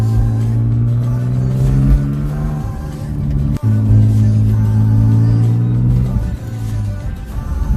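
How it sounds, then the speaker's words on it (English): A BMW E36 engine drones steadily from inside the car during a first test drive, a loud low hum that shifts pitch as it changes gear, with a brief dip midway and no talking. "we are on our first drive with the E36"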